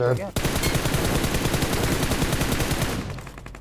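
UMP submachine gun fire in the BGMI mobile battle royale game, a sustained loud burst of rapid automatic shots lasting about three seconds before cutting off.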